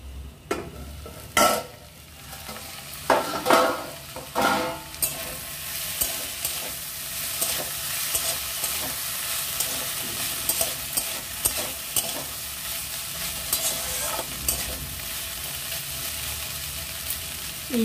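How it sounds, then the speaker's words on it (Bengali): Sliced kakrol (spiny gourd) cooks in a pan over a low gas flame, its lid lifted for stirring: bursts of scraping and clattering from the spoon come early, then ease into a quieter, continuous gentle sizzle. "এইভাবে মাঝে মাঝে ঢাকনা খুলে নাড়াচাড়া করে দিতে হবে"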